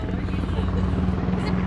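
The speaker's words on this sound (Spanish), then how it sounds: "A ver los helicópteros, ahí vienen los helicópteros, a ver." Helicopters thrum overhead above Redondo Beach pier in California, a steady low rotor drone with a humming tone under the beach ambience.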